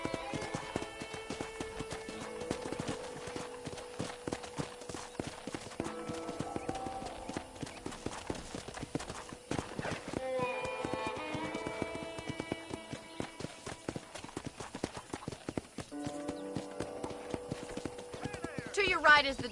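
Steady clip-clop of a horse's hooves as it is ridden at a ranch in the open-world Western video game Red Dead Redemption, with occasional whinnies and game music and ambience layered underneath.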